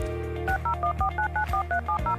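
Telephone keypad DTMF tones dialing a number, a rapid series of about a dozen short two-pitch beeps in steady rhythm over a low background hum, close and clear with no speech.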